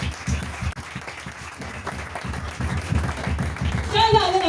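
A church congregation applauds and claps steadily, a warm rolling applause that swells toward the end, with voices mixed in.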